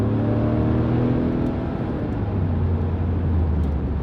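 Mercedes-Benz G63 AMG Edition 463 from 2017 driving under steady load, its engine a loud continuous low drone with rising tonal harmonics and a slight rev change midway, heard from inside the cabin with no talking.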